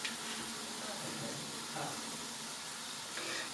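Faworki batter sizzles in hot oil, a quiet, steady crackling hiss that continues without a break for a few seconds.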